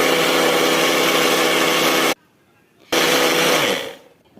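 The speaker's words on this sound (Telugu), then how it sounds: "మిక్సీలో వేసేసి తిప్పేసాను." A mixer grinder churns cream into butter with a loud, dense whirring drone that cuts off abruptly, pauses in near silence, then restarts and winds down.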